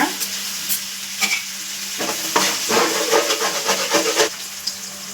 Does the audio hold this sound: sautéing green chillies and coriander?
yes